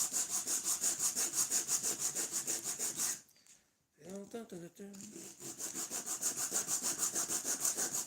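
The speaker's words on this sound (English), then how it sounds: "Just got to sand it." A wooden phone stand being sanded by hand makes steady, rhythmic back-and-forth rasping strokes. They stop briefly while a voice speaks, then resume at the same pace.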